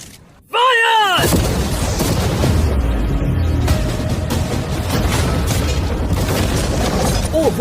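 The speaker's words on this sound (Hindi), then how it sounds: "अब हम तुम्हारी नई यॉट पर कैनन्स को शूट करने वाले हैं" Cannons fire at a yacht in a video game: a sharp boom followed by a long stretch of rumbling impacts and crashing debris, loud and sustained.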